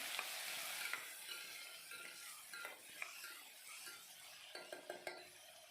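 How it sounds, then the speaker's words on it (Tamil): Onions and tomatoes sauté in oil for a South Indian kuzhambu, a soft continuous sizzle broken by the scrape and clink of a spoon stirring the pan, close and without talk. "இப்போது வெங்காயமும் தக்காளியும் நல்லா வதங்கி வரணும்"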